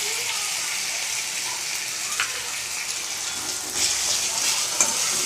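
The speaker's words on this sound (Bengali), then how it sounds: "পেঁয়াজটা, টমেটোটা, রসুনটা লাল লাল করে ভাজা হয়ে গেছে" Onion, tomato and garlic fry in a pan with a steady, close sizzle, broken by a few scraping stirs and faint bubbling, with no voices over it.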